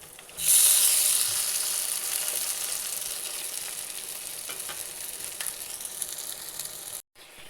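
Ash gourd slices dipped in batter hit hot white oil with a sudden loud sizzle that fades slightly but keeps crackling steadily, cutting off abruptly near the end.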